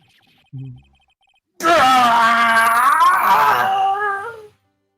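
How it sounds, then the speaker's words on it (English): A drawn-out, wavering scream from a video game character, loud and alone after a brief short sound, rising and bending in pitch for about three seconds before cutting off. "It's that scream I heard in the elevator."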